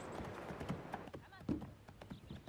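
Horse hooves clip-clopping in a round pen as the horse is driven around, a few quiet uneven thuds heard faintly under people talking.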